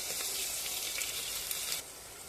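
Black peppercorns crackle and sizzle in hot ghee inside a pressure cooker, a steady dense hiss close up that softens slightly near the end.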